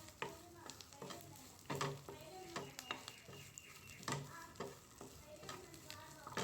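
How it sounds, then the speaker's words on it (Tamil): Grated coconut sautéed with curry leaves in a pan for Tamil-style curry leaf chutney, with a soft sizzle and repeated scraping stirs of a spoon against the pan, fairly quiet and close. "அப்புறம் துருவிய தேங்காய் கொஞ்சமாக சேர்த்துக்கலாம். சேர்த்துட்டு அதையும் நல்லா வதக்கி எடுத்துக்கலாம்."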